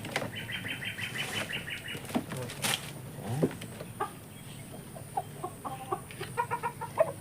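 Large chickens cluck in repeated short bursts with sudden bouts of wing flapping, close and fairly loud against a busy farmyard background.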